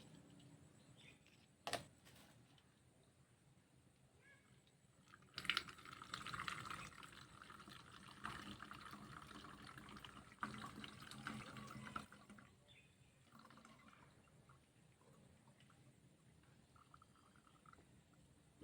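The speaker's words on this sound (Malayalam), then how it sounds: "ഇത് ഞാനിത് അരിച്ചിട്ട് ഇതിനകത്ത് ഒഴിക്കട്ടെ." Neem-oil pest spray for cowpea plants being strained and poured into a container, a soft steady trickle of liquid running for several seconds and then tapering off, faint and close with no talking.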